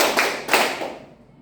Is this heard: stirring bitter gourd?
no